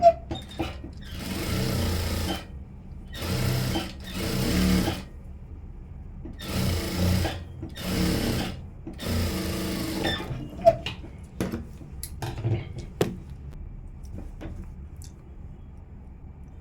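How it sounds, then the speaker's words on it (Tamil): Sewing machine stitching the lining of a princess cut blouse, in several short bursts of fast whirring separated by pauses, followed by soft handling clicks and taps of the fabric, close by with no talking. "இதையும் லெவல் பண்ணிவிட்டு ஓரமாக தையல் போட்டுடலாம் லைனிங்கில்."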